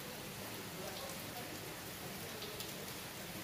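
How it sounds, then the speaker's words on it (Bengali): Rain falls over the Ganges river as a faint, even, dense hiss that continues unbroken, with no voices heard. "গঙ্গা বক্ষে বৃষ্টি,"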